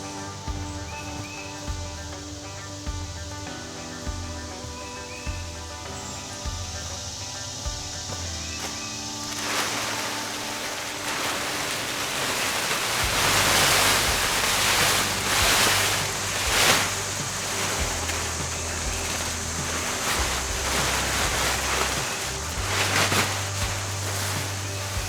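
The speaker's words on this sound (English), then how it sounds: "all this water will just run loose" Water gushing and splashing out in a steady rush after something is pulled loose in a tractor barn, starting quietly and swelling into a louder continuous wash partway through, with low background hum.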